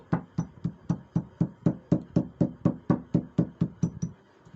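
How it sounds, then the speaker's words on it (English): A hammer knocks repeatedly on a bag's inner zipper to set it in place, about eighteen steady, evenly spaced taps at close range with no talking. "You can use your hammer to make sure it stays very well."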